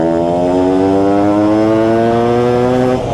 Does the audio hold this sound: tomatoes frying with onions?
no